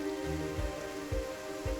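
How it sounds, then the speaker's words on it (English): Rain falls outdoors at night at Battersea onto a landscape painter's canvas, a steady close hiss of drops with soft low thumps, continuous and without talk. "now I might as well just catch the rain on my canvas and see what happens"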